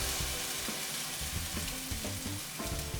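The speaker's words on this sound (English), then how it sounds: "let's get the French toast into the skillet" Soaked bread slices frying as French toast in a skillet: a steady, quiet hiss of sizzling with a few faint bumps underneath, continuous throughout and without any talking.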